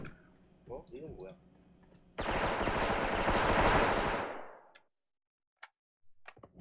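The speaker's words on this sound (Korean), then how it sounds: "심지어 총소리가 나고 날 죽였는데" A sustained burst of loud gunfire in Special Force lasts a couple of seconds, dense and rattling, with faint clicks and voices before and after.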